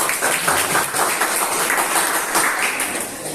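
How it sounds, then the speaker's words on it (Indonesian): Applause from a classroom audience for the first student group after their presentation, a dense, steady wash of many hands clapping close by for the full stretch with no talk over it. "Beri tepuk tangan untuk kelompok 1."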